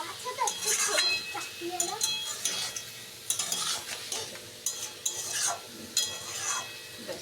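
Mixed vegetable chilli broccoli with soy sauce being stirred in a pan: steady scraping and clinking of a utensil against metal over a light sizzle, with faint voices in the background.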